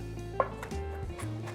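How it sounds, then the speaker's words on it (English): A knife chops garlic on a cutting board for black beans, one sharp close knock standing out amid a few softer taps over a low steady hum. "I'm going to give it a really good chop because I don't want to have any large pieces of garlic running through the beans"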